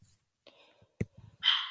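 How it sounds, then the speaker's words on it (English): A small pet puppy indoors gives a few faint, scattered yips and soft whimpers, with a slightly louder bark near the end, all quiet and sparse. "Sorry if you can hear my pupper barking."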